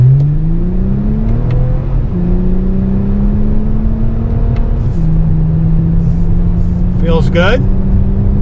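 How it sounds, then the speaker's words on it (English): A 2024 Toyota Camry TRD with a V6 engine accelerates hard through its gears, its note climbing and dropping with each shift, while someone speaks briefly over the steady engine drone. "I love just a linear torque delivery out of this V6 engine."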